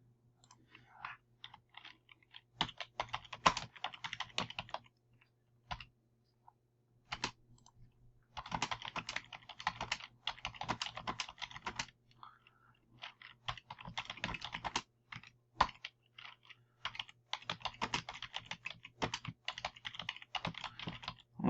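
Typing on a computer keyboard with a faulty O key: close, crisp key clicks in uneven bursts separated by short pauses, quiet and without talk.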